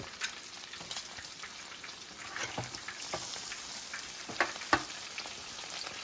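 Food sizzles in a hot pan just after being flipped, a quiet, steady crackling fry with a few sharper pops and spits.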